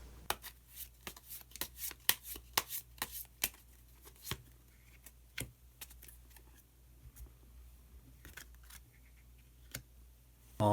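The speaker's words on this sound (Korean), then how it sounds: "히든 카드를 한 장 더 뽑아보도록 하겠습니다" Tarot cards shuffled and drawn from a deck, heard as quiet papery flicks and taps scattered irregularly over a soft steady hum, with no talking.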